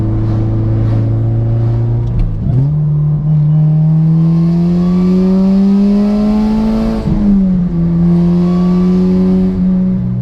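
A supercharged 2011 Honda Civic Si pulls hard from inside the cabin, its engine and exhaust note rising steadily in pitch through the gears with brief dips at each shift, loud and continuous.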